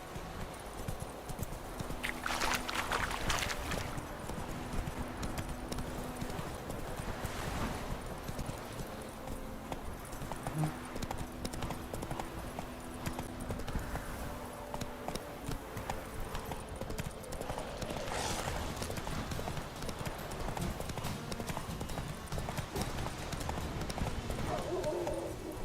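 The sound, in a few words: horse Roach hooves clip-clopping in video game The Witcher 3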